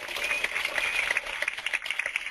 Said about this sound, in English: I'm going to turn down the clapping a little bit.